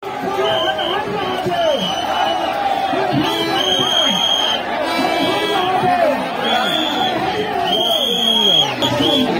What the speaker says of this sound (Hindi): अंदर जाने के लिए जगह नहीं, इतना सारा सा भीड़ लगा है